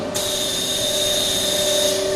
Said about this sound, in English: have the machine lifting the workpiece to the feeder area.